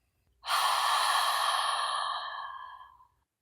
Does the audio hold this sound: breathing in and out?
yes